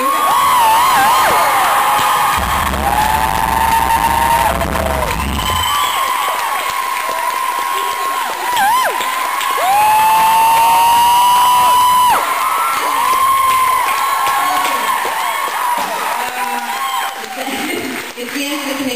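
Concert crowd applauding and cheering for a band at the end of a Canadian tour, a loud sustained roar of clapping with whoops and shouts, a voice cutting through at moments.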